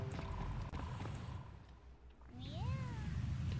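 A cat in the Tales of Xillia 2 video game meows in a single rising, wavering call near the end, over a steady bed of game background music and ambience.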